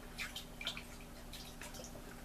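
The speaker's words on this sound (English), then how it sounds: "And now I'll have to wash this brush." Water drips and sloshes softly as an acrylic paintbrush is swished and rinsed in a cup, a few quiet, close splashes with no speech.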